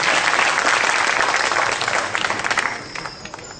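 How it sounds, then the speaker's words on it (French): An audience bursts into loud, dense applause indoors, many hands clapping steadily for about two and a half seconds before thinning out into scattered claps. "Applaudissez-les s'il vous plaît."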